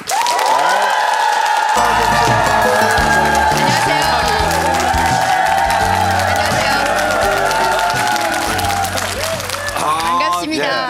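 A TV studio audience applauds and cheers to welcome comedian Shim Hyung-rae, the clapping sustained beneath loud, bright entrance music that plays throughout.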